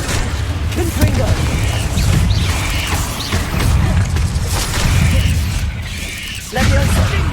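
Repeated Confringo blasting spells going off in Hogwarts Legacy, a string of booming magical explosions with crashing, shattering debris, dense and continuous over game noise before a brief lull and a final burst.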